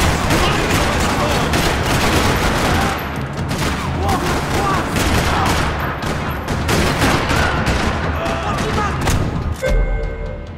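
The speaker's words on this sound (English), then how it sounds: "Another parking lot rattling with gunfire." Rapid bursts of video game gunfire in Max Payne 3 crackle continuously and loudly in a parking lot, dense overlapping shots with some heavier thumps, ending in a short quieter tail.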